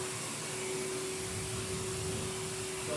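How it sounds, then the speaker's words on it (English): A pet grooming dryer blows near a smooth-coated mixed-breed dog, a steady whooshing airflow with a constant whine held at one pitch throughout, alone with no voices. "So I'm going to start slow with the dryers off of her body"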